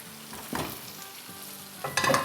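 Okra sabzi frying in a pan, with a soft continuous sizzle broken by a few scraping stirs of a spoon, close and moderately quiet, no talking.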